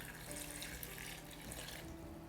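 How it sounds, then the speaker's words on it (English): Four cups of water poured into a soup pot for creamy cauliflower and rice soup, a steady splashing gush from start to finish, close and fairly loud with no talking. "we're going to put in our 4 cups of water"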